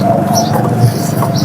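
Pigeons at an outdoor bird market in Lahore coo softly in a low, rolling murmur over a steady crowded background din, with no clear voices.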